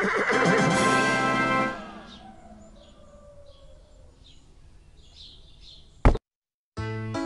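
A cartoonish horse whinny rings out close and clear in a children's interactive storybook app about a county fair, then fades into quiet with faint chirps, followed by a short click and a bright electronic jingle.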